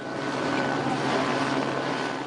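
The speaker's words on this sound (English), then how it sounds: "With a police helicopter overhead" A police helicopter over a street protest in Los Angeles makes a steady, loud rotor and engine roar that fills the air, constant and unbroken throughout.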